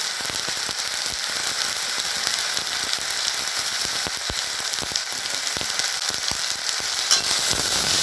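Chicken do-pyaza with green chilli paste frying in a pan, a dense, loud continuous sizzle with scattered crackles and the scrape of a spatula stirring throughout, close up and alone.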